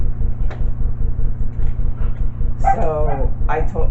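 A dog barks a couple of times over a constant low hum, the barks sharp and fairly close.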